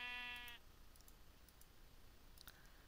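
A single short bleat from a sheep in a blocky Minecraft-style video game opens the moment, clear and tonal, then gives way to faint background hiss with a few soft clicks.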